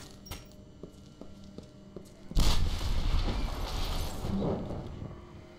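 A grenade goes off in a castle-storming video game: a few light clicks and taps, then a sudden loud booming blast followed by a long rumbling, crackling tail of debris and echo.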